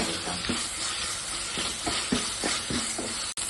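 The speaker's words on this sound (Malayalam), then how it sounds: "വെണ്ടയ്ക്ക വഴറ്റണം സാമ്പാറിലിടുന്ന പോലെ" Okra sautéing in coconut oil in a pan gives a steady close sizzle, with soft rhythmic scrapes of the stirring spoon recurring every half second or so, and no talking.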